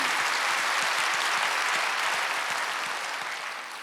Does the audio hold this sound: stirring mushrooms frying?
no